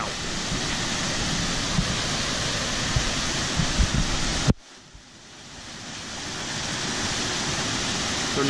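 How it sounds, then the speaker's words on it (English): Steady rushing water from a couple of small waterfalls on a trail at Ferne Clyffe State Park, Illinois, roars continuously, then briefly cuts out and swells back in as a constant broad wash of falling water. "We got us a couple waterfalls."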